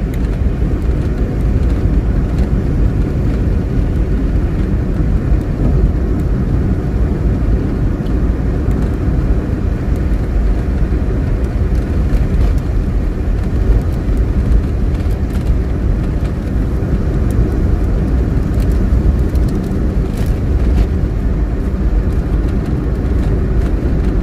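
Car driving up steep Spur Tree Hill in Jamaica, a constant loud low rumble of engine and road noise with wind, steady throughout and no voices.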